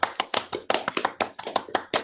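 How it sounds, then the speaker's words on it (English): Audience clapping at a Donington Park touring car race event, a burst of sharp, close hand claps in an uneven rapid rhythm that continues steadily for a couple of seconds with no talking. "I think that deserves a round of applause"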